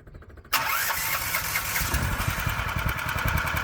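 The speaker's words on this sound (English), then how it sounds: "the engine idles really nice now and the clutch doesn't drag anymore" A HISUN UTV fitted with a swapped-in Predator big block engine cranks and fires up, then settles into a steady, rumbling idle that stays loud and close.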